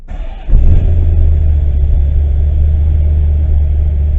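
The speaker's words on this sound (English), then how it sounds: "You can hear the lope of my camshaft." A Corvette V8 with a lopey camshaft cranks and fires, then settles into a loud, deep, rumbling idle with an uneven, loping pulse, heard up close with no talking.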